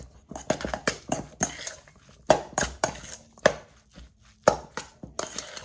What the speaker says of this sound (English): And I'm just going to mix it up.